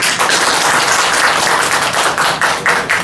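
Applause from a church congregation welcoming a newcomer, a dense, steady patter of many hands clapping close by for about three seconds, with no talk over it.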